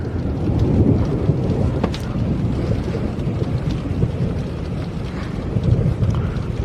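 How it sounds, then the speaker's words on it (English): Heavy, steady rain pours down during a severe thunderstorm, a loud, dense roar with low rumbling underneath and some wind buffeting the microphone. "I think the rain's picking up."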